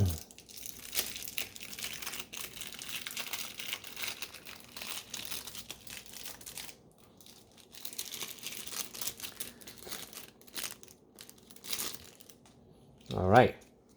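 Naramata prototype card packs being opened, crinkling wrapper and shuffling card sounds, soft and close, under intermittent talking.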